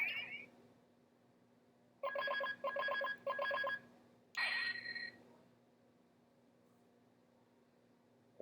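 A Power Rangers Magi Ranger toy phone rings with a short electronic chirp, then three pulsing bursts of beeping ring tones and a final tonal jingle, close and clear over a quiet hum.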